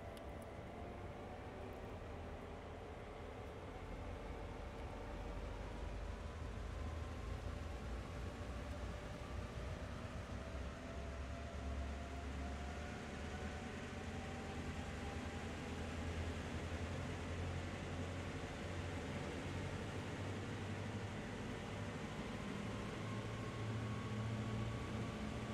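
Locomotive engine throttling up on Horseshoe Curve in the video game Train Sim World 2, a steady loud diesel drone with rising whining tones that holds throughout with no talking.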